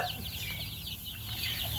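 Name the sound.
baby chicks clucking while eating and scratching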